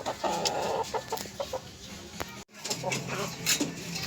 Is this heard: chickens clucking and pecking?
yes